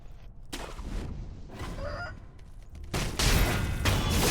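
In Sekiro, a chicken gives a few quick squawking clucks amid sharp bursts of game action, close and fairly loud against a busy, noisy backdrop.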